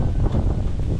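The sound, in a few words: strong wind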